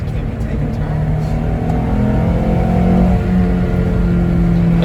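A Honda S2000 with a swapped JDM F20C engine and AP2 transmission drives along, its engine a steady loud drone with rising and falling pitch as it pulls, heard from inside with a voice faintly present.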